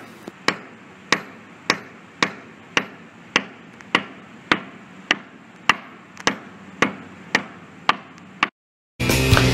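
A hammer sounds concrete to find delaminated areas, with about fourteen sharp, evenly spaced strikes ringing out close and loud. A brief burst of rougher noise follows after a short silence.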